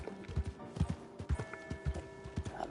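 Horse hooves clip-clop in the Red Dead Online video game, a steady, rhythmic trot of crisp hoof strikes over a faint background hum, with no talking.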